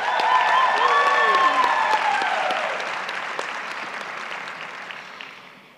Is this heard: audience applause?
yes